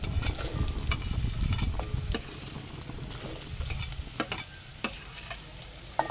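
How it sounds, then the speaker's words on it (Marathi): Chopped onion drops into a hot pan with garlic for Maharashtrian kandyacha kalsa, giving a loud burst of sizzling that settles into a quieter crackle with a few sharp utensil taps, close by. "आता मी याच्यामध्ये हा चिरलेला जो कांदा आहे तो मी टाकणार आहे"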